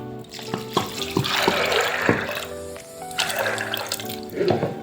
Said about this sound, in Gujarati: બસ વટાણા ડૂબે એટલું પાણી એડ કરીશું।